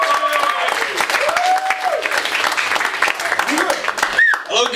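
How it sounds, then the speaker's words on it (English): Applause and cheering from a comedy club crowd in Swansea greet a comedian coming on stage, the clapping dense and lively, with voices and whoops mixed in throughout. "So you're going to start the clap for me again, Stefan?"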